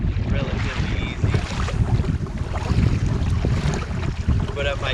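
Wind rushes over rough water on the Napa River around a Hobie Compass kayak, a loud continuous blustery roar with faint splashing throughout.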